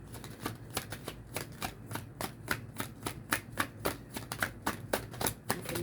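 VICEVERSA tarot cards being shuffled by hand in a steady run of crisp riffling bursts, close and fairly quiet, with no talking.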